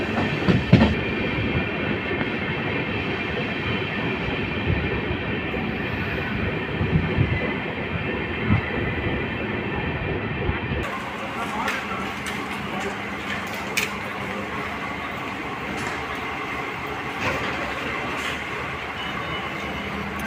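A passenger train runs with a continuous rumbling roar and faint wheel clatter, heard from on board, the tone shifting brighter about halfway through.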